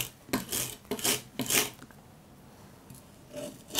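Salted garlic is rubbed into paste with the back of a knife on a board, three rhythmic scraping strokes, close and fairly soft, then a faint pause and a light final scrape.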